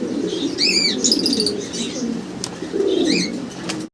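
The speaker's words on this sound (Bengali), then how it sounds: "দর্শক আমরা দেখতেছি একজোড়া রেসার কবুতর আছে এখানে" A pair of blue racing pigeons coo in low throaty bursts, with quick wing flaps and a few high chirps close by in a quiet loft.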